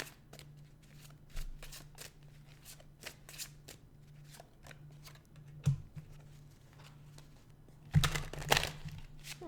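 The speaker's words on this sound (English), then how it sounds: "Let's do some shuffling." Tarot cards shuffled by hand at close range in quiet surroundings, a steady run of soft riffling snaps and flicks with a louder burst of shuffling near the end, no talking.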